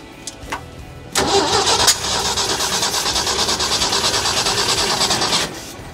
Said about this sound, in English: Let's put a little gas in it. See how long it'll run.